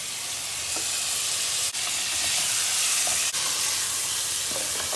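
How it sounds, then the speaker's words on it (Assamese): Chicken meat frying in hot oil with onion, garlic and ginger gives a loud, steady sizzling hiss throughout, broken by a couple of brief dips, with no talking. "এতিয়া ইয়াত মই মাংসখিনি দি দিম।"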